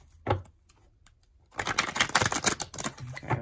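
A deck of tarot cards is shuffled, a brief tap followed by quiet, then a rapid crackling riffle of cards lasting a couple of seconds, close and moderately loud.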